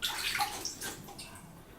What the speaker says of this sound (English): Kiki, you want some cold water in there?